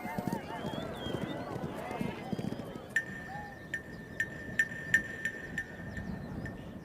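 A riderless horse gallops in a race, rapid hoof clip-clop rhythm in the distance, faint and mixed with background sounds, a bell-like tone ringing in the later part.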